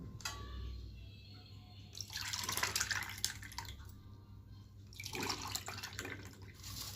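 Rose milk, with soaked sabja seeds and almond gum, is stirred and poured into a tumbler, giving quiet, close splashes and drips in two short bursts separated by near silence.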